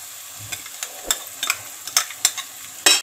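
Mutton in a pan being mixed with red chilli powder, black pepper, salt and sauces gives a series of sharp scraping stirs and clacks over a faint sizzle, roughly one every half second, close and alone.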